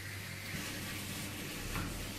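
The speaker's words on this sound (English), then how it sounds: "Mix it well. Fry for 2 minutes" Schezwan fried rice mixture sizzling and frying in a pan, a steady quiet hiss with faint stirring scrapes, heard alone without talk.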